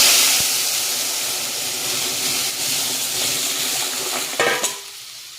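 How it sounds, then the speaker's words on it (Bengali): Boiled dal poured into a hot frying pan for a motor dal dish with chalta, giving a loud continuous sizzle and hiss with light stirring that ends in a brief clatter before fading. "এবার আমার সেদ্ধ করা ডালটা আমি দিয়ে দেব।"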